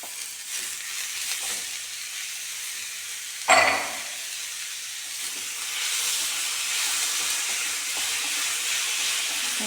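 Two chopped tomatoes hit softened onions in a hot pan with a sudden loud sizzle burst, then settle into a constant close hiss and frying crackle, no voices.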